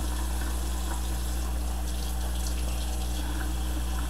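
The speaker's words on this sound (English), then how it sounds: "Put some water in there, just dump it out." Water pours and gushes from a trumpet tuning slide during cleaning, a steady splashing rush like a running tap, close and continuous with no talking.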